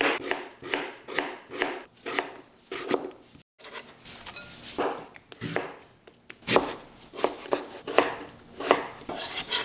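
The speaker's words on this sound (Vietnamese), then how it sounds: "Mình cắt nhỏ khoai môn, sau đó thì mình cắt sợi ra như thế này." Taro being cut into thin strips with a knife, for crispy fried shrimp-and-taro fritters: a quick, steady run of crisp chopping strokes on a board, close and fairly loud, with a brief pause partway through.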